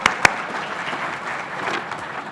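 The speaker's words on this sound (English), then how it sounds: "a big round of applause" An audience applauds at an Irish evening of music and poetry, a steady, moderately loud wash of clapping from a crowd with a couple of sharp claps near the start, holding evenly to the end.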